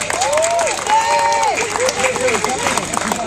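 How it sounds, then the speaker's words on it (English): Outdoor crowd at a trade union march against cuts near a Tory Party conference in Troon applauds, with clapping and cheering under loud whistles and shouting voices, busy and close. "a big round of applause for the STUC"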